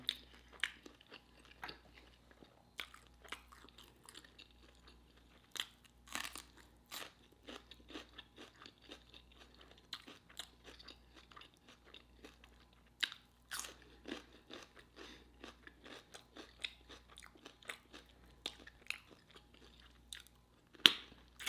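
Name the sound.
eating crunchy Popeyes Sweet N Smokey Chipotle chicken wings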